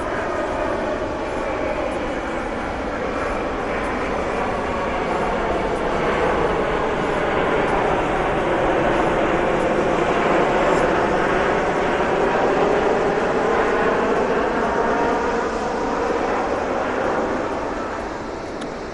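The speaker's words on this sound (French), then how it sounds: "C'est joli quand même avec l'avion qui passe." A propeller airplane drones overhead in Antalya, Turkey, its pitch sweeping down as it passes, growing louder toward the middle then slowly fading.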